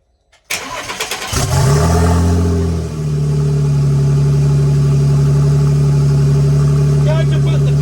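A twin-turbo V6 engine in a rear-wheel-drive Mini cranks briefly, catches with a loud bark and settles into a steady, deep, rumbling idle that runs on close and loud.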